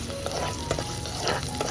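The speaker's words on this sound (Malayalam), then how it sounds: "വെളിച്ചെണ്ണ ഒന്ന് ചൂടായി വരുന്ന സമയം ഇതിലേക്ക് കുറച്ച് കടുകിട്ട് കുറച്ച് ഉള്ളി അരിഞ്ഞതും കുറച്ച് കറിവേപ്പിലയൂടെ ചേർത്ത് നന്നായി ഒന്ന് ചൂടാക്കി എടുക്കാം" Mustard seeds, chopped onion and curry leaves crackle and sizzle steadily in hot coconut oil, with a few louder pops and stirring clatters close by, no voices.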